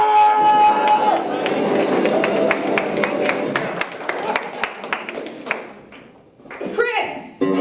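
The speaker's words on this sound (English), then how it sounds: "Clap the loudest for who you want to win." An audience at an Earth Day event claps and cheers for a contestant named Jordan, a dense wash of hand claps with scattered sharp claps and shouts, loud and close, thinning out before a brief burst of voices near the end.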